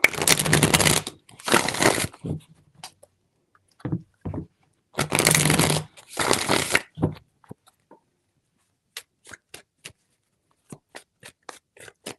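Two pairs of brisk tarot card-shuffling bursts with pauses between, then scattered soft taps and clicks as the cards are handled.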